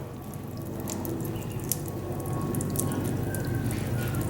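Water spilling over the brim of a filled fish tank gives a steady, close splashing and trickling wash with faint drips, unbroken throughout and without voices.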